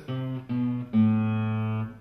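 A guitar plays three sustained notes of the counter melody from Bach's Minuet in G, the first two short and the third held longer, ringing clearly and close with no talk.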